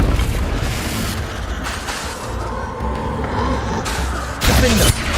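Confringo fire spell blasts in the video game Hogwarts Legacy, a series of dull booming explosions over a rumbling game background, with a sharper, louder burst near the end.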